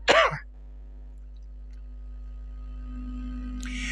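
A short throat clearing bursts out at the very start, close and sharp, then gives way to a quiet room hum during an indoor Islamic study gathering, with a faint sound returning at the end.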